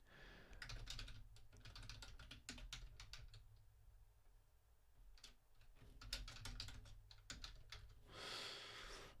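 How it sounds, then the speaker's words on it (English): Rapid keystrokes on a computer keyboard clatter in irregular bursts with short pauses, fairly close and alone, with no voices. "What am I typing?"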